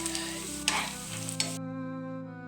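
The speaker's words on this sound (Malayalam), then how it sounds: "നമ്മൾ ഈ സവാള വലിയ ഉള്ളി ഇങ്ങനെ വഴറ്റിക്കൊണ്ടിരിക്കുകയാണ്" Sliced onions sauté in a pan, a soft sizzle with a couple of spoon scrapes that stops abruptly partway, leaving a quiet hum.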